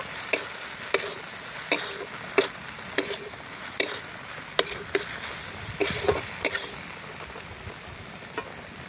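Spices with turmeric, salt and chilli powder being stir-fried for a river Amodi fish curry, a low sizzle broken by sharp, regular spatula taps and scrapes about once a second.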